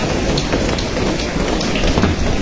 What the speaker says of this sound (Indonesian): Wow, hujannya masih cukup deras nih teman-teman.